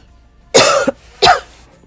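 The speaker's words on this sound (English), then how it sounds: "I have a dry cough." Two dry, hacking coughs from a single person close by in a home sewing setting, each a strong burst separated by a short silence.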